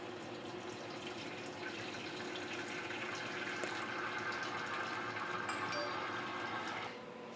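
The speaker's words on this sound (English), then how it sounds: "So the syrup that we just made is going to be poured into our filters" Homemade maple syrup pours steadily into filters, a continuous close liquid rush that runs evenly and then eases off near the end.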